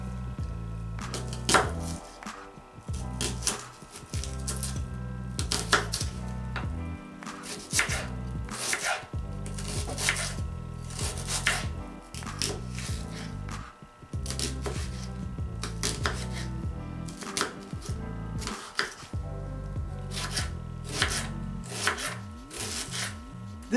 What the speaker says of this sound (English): I'll cut it into small pieces.